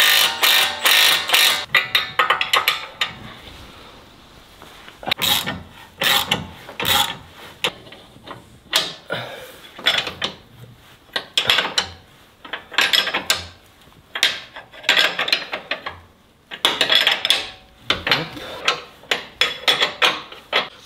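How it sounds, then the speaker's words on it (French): Hand wrenches work on a car's wishbone and driveshaft parts, with repeated metallic ratcheting bursts, clinks and clanks of tools close by, coming in irregular clusters with short pauses between them. "Je vais prendre mes clés, on va juste tout approcher."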